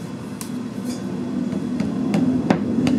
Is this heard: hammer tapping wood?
yes